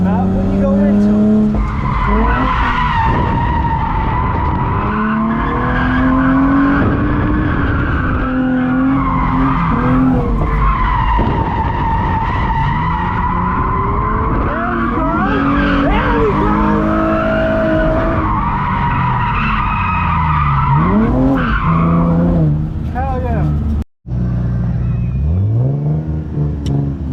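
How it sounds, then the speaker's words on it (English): A car drifting at Newport Speedway: loud, sustained tire squeal and skidding over a revving engine that rises and falls, close by and continuous, with people talking intermittently. "what was that, Newport Speedway drifting?"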